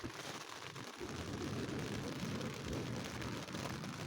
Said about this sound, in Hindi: थोड़ी देर में बारिश स्टार्ट हो गई और बारिश के साथ तेज़ हवा भी आना शुरू हो गई